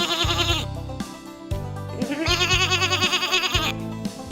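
A sheep bleats several times in a row, loud and close, with wavering quavering calls separated by short pauses and no talk over them.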